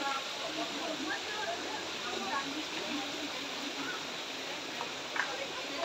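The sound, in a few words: water pouring from temple water spouts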